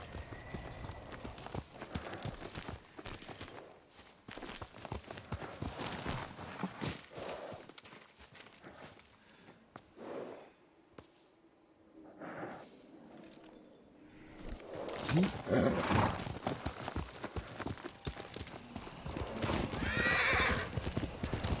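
A horse in the video game Ghost of Tsushima gallops with rapid hoof clip-clops and neighs loudly several times, near and prominent, with brief quieter gaps between bursts of hoofbeats.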